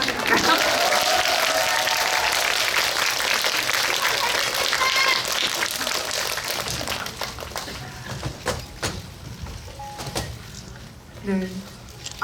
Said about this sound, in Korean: 오시는 길이 좀 길기 때문에 좀 길게 박수를 쳐드릴까요?